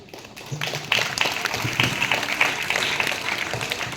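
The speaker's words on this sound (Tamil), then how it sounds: "வாருங்கள், கைத்தட்டலுடன் பட்டிமன்றத்தை தொடங்கலாம்" An audience at a Tamil debate show breaks into applause to open the session, the clapping swelling up after a quieter start and then staying as a dense, sustained patter.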